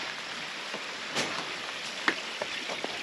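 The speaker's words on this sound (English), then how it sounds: "So the rain's back, but we haven't stopped." Steady rain falling outside during facade plastering work, a soft continuous hiss with a few sharper drips and taps standing out, no talking.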